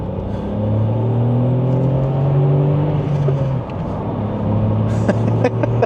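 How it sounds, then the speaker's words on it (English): A VW Up GTI engine thrums continuously while driving, heard from inside the cabin, its low hum rising in pitch under load, easing briefly, then climbing again, with a few faint clicks near the end. "the thrum of this engine is just fantastic"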